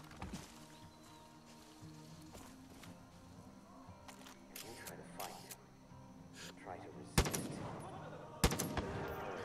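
Gunshots in Far Cry 5, sharp cracks scattered through the scene with two especially loud close shots near the end, amid background game sounds and a speaking voice.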